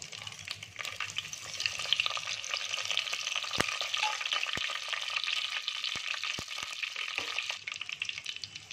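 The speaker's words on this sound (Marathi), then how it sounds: "तेल टाकले मी भांड्यामध्ये, अख्खा गरम मसाला" Whole garam masala spices sizzling and frying in hot oil in a cooking pot for mutton handi, a steady bright crackle with a few sharp ticks, fairly soft and close.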